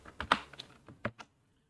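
Several quick, close clicks of keys on a computer keyboard while C++ code is being typed, an irregular burst of taps that stops abruptly into silence.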